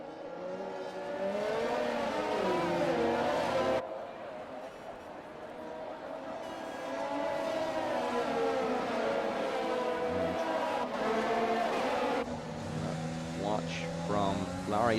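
Race cars in F1 2020 at Baku accelerate hard at a safety car restart, engines whining and shifting through gears, loud and sustained with commentary talking over them.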